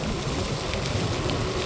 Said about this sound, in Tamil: மழை கொஞ்சம் கூடவாக இருக்குது.